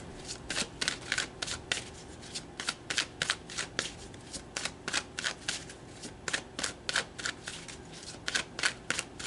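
Tarot cards are shuffled by hand in a quick series of crisp, riffling bursts, close and clear, with a few brief pauses between the bursts and no talking.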